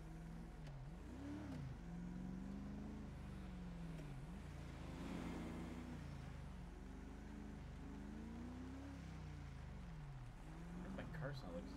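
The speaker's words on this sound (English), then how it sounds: "My car sound like it's about to die." A labouring car engine in a police roleplay video game drones and wavers in pitch, rising and sagging unevenly as if it is about to die, loud and continuous with radio chatter and talk over it.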